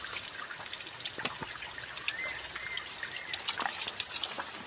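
Cold water trickling steadily from a spout made of a sal leaf, a continuous close, soft dribbling splash with small drips and no voices.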